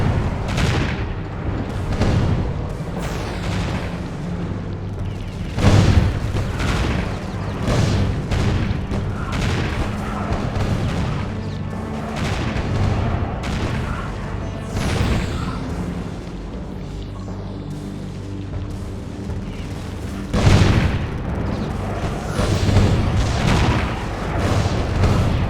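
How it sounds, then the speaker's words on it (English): In the tower-defense game Defense Grid: The Awakening, guns fire and explosions go off in a steady barrage, with several heavier booming blasts standing out over the continuous rumble. "The guns took them out!"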